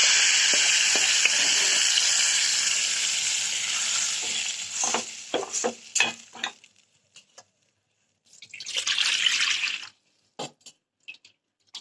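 Loud sizzling and bubbling of chicken meatball curry in a pan, then scattered stirring clatters and a brief renewed sizzle before quieting.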